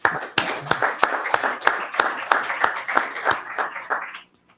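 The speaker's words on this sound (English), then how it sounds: "I would ask for an applause for our board on Board of Distinction, please" An audience at a school district board meeting claps for the board, a moderate patter of many hands with distinct sharp claps near the front, steady for about four seconds before stopping abruptly.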